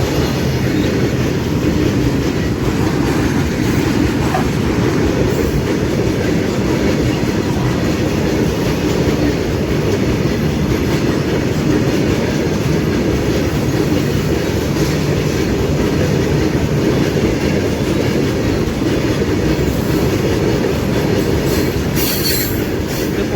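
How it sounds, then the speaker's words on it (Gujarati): A long Indian freight train loaded with coal thunders past close by, a loud unbroken rumble and clatter of wheels with occasional high squeals. "બહુ જલ્દી જલ્દી જાય છે આ ગાડીમાં કોલસા ભરેલા છે બધા"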